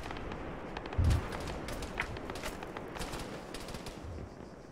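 Gunfire from the Arma 3 military game crackles in a dense, distant-sounding stream of rapid shots, with one heavier thump standing out near the start over a constant rumbling backdrop.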